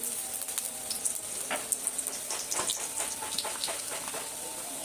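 Cumin seeds sizzle in hot mustard oil at the start of cooking a fish curry, a steady bright hiss dotted with sharp crackles and pops, close and fairly quiet, with no talking.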